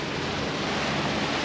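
Sea swell of about a metre washes around a sailboat in near-calm air, a steady, close, broadband hiss of moving water with faint wind, no voices.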